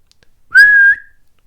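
A single sharp, steady whistle blast imitated by a voice, loud and close, lasting under half a second in otherwise near silence, mimicking an umpire's whistle at an Australian football match.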